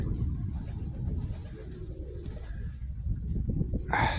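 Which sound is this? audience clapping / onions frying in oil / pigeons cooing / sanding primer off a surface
pigeons cooing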